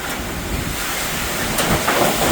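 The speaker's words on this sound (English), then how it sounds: "Another big gust." A strong wind gust roars during tropical cyclone Fina in Darwin, Australia, a loud, broadband rushing buffet against the microphone that holds steady and swells slightly toward the end.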